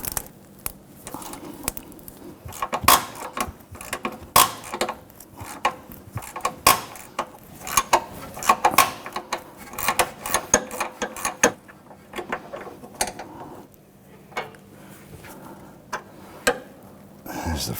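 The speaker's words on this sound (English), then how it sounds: "I'm actually going to work this bolt back and forth a little bit because we don't want this bolt to snap off." Rusty sway bar bushing bolt on a Jeep Patriot being worked back and forth with a ratchet, a stream of close, sharp clicks and metallic ticks in uneven bursts, with brief pauses between.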